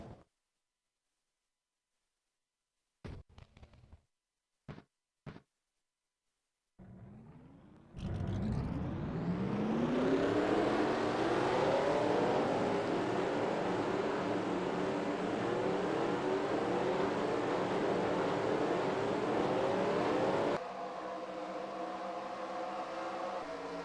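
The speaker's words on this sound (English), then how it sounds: "Drivers, start your engines!" Race car engines fire up in a stock car racing video game at Kansas: a few short clicks, then a rising rev settling into a loud, steady engine drone that drops slightly near the end.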